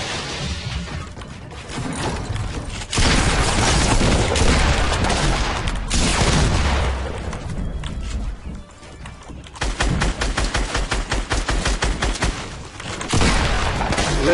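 Minigun fire in the Fortnite video game, loud sustained bursts of rapid gunfire that stop and start across the stretch, with dense explosive crashes mixed in and no talking.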